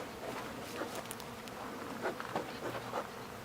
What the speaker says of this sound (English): Watch the bees.